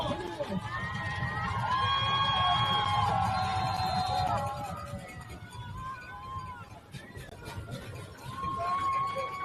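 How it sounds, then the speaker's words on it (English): High school football crowd at a Friday night game between Oak Hill and Buckhannon-Upshur, a loud swelling roar of cheering and shouts with whoops and whistles, easing off midway then rising again, with commentary talk over it. "Crowd imploring their team on."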